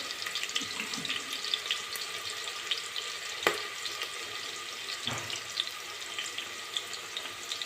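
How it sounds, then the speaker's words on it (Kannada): Soft sizzling and crackling of onions frying in oil, with a couple of sharp clinks from a utensil against the pan. "ಈರುಳ್ಳಿ ಹಾಕೊಳ್ಳೋಣ ಚಟ್ನಿ ಎಳೆ ಹಾಕೊಳ್ಳೋಣ ಹಾಕೊಂಡು ಸ್ವಲ್ಪ ಫ್ರೈ ಮಾಡ್ಕೊಳ್ಳೋಣ"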